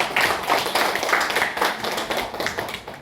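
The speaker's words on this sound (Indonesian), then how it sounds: "Tepuk tangan untuk kawan semua." Group of colleagues clapping at a school training event, a dense, steady patter of many hands at close range lasting a few seconds, with no talk over it.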